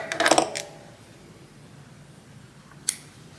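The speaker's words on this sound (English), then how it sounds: "Then cut your yarn." Scissors cut yarn while finishing a crocheted hexagon granny square sweater sleeve, with a quick cluster of crisp snips at the start and one sharp snip near the end against a quiet background.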